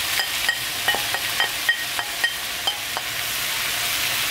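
Squid stir-fried with vegetables and green onion over high heat in a pan, with a steady sizzle and a quick, regular series of close scraping stirs and taps, and no talking.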